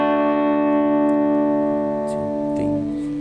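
A guitar rings out a sustained chord from a chord progression, the chord starting at full loudness and holding steadily, with a fresh strum near the end, up close and alone.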